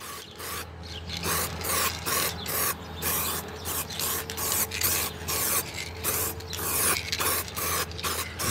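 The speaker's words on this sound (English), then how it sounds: "this can isn't spraying real well" An aerosol spray can lays a light clear coat onto a plastic car headlight lens, giving repeated short hissing bursts with brief gaps between them, close and steady, with no talking.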